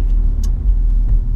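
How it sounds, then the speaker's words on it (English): A steady, loud, deep engine rumble from an Alfa Romeo Giulia Quadrifoglio with a 503 bhp engine during a gear change, heard close with a brief higher-pitched blip partway through and no talking. "a very engaging and very addictive sound and feel when you change to the gears"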